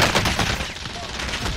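Dense rapid gunfire from a video game shooter sounds in a loud, continuous burst of overlapping shots and automatic fire, with no talking.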